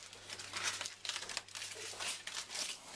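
Aluminium foil crinkles and crackles as it is peeled open from a baked potato cooked in a slow cooker, a close, quiet series of irregular rustling bursts.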